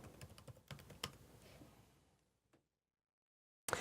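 Typing a password on a Mac keyboard: a quick run of close, light key taps fading out into silence, then one sharp click at the end; no talking.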